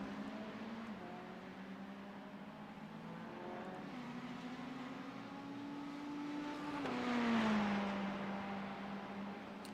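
A Ferrari 488 GT3 EVO race car on a hot lap at Barber Motorsports Park drones as a steady engine note that climbs and falls through the gears, swelling louder as it passes, then easing off.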